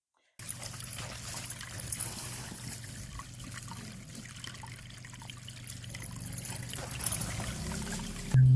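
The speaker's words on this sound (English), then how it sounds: "On the other side of our house ridge runs yet another creek." A creek runs past a house ridge beside a pasture, a steady close trickle and gurgle of water that swells slightly toward the end.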